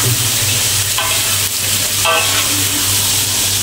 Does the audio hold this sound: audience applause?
no